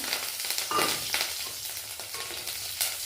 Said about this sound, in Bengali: আলো জিরে আর চেরা কাঁচা লঙ্কা ফোড়ন দিয়ে দেবো